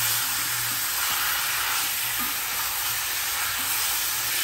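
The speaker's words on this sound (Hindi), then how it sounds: "इसे 1 मिनट के लिए हाई फ्लेम पे अच्छे से फ्राई करिए" Small bone-in chicken pieces frying over a high flame, a steady loud broadband sizzle with faint low stirring rumbles beneath, continuous for the whole stretch with no voices.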